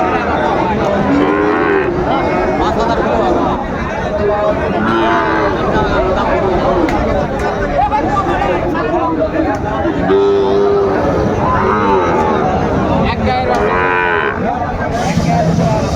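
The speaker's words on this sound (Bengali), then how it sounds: "আমরা দেখছিলাম এখানে যে দুটি গরু দেখছেন" Sahiwal bulls and calves at a busy cattle market in Chattogram moo loudly and repeatedly, several long calls close by over a constant crowd murmur and voices.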